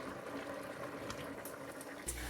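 Canned black beans with their liquid poured into a sweet potato soup pot, a steady wet sloshing pour running close and continuous, with a brief thicker glug near the end.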